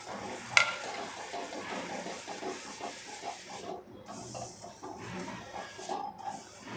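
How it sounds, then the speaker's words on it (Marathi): Ingredients for sesame-jaggery ladoo, including roasted sesame seeds, are stirred briskly in a pan, giving a close, continuous gritty scraping and faint sizzle with a sharp clink near the start. "हे पटापट हलवून घ्यायचं"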